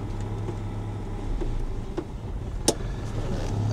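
A car's engine idles with a steady low hum, its rough running having just settled, and a single sharp clunk midway marks it being shifted into gear.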